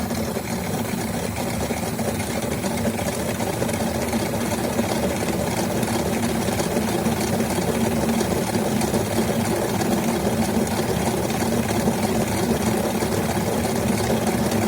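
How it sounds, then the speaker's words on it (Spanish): An automatic programmable washing machine runs its drain pump and then its spin cycle, making a steady, loud mechanical hum and whir that holds constant throughout with no talking. "Vuelve a funcionar la bomba de desagüe. Y vuelve a hacer para centrifugar."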